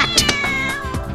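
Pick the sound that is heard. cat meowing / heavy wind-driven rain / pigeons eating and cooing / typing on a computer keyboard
cat meowing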